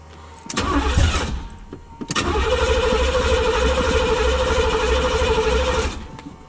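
Box Chevy engine cranking with a rhythmic starter churn, a short stop, then a longer cranking run of about four seconds that does not catch right away, loud and close.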